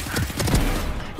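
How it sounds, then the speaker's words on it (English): A swarm grenade detonating in Valorant, a short burst of rapid, crackling pops lasting about a second, loud and close with no talk. "Placing swarm grenade."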